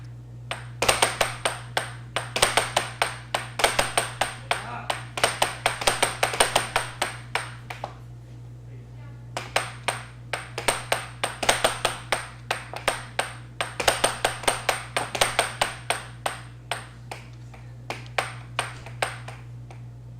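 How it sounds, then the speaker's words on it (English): A boxing speed bag is punched in rapid rhythmic rattling bursts, two long runs of fast, even thuds separated by a brief pause, close and steady over a constant low hum. "mesmerized, just like most of our viewers probably are, by that speed bag that Nathan was doing"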